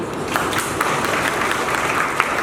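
Steady applause from an audience at a meditation and self-knowledge camp in Hisar, Haryana, a dense wash of many hands clapping at an even level throughout.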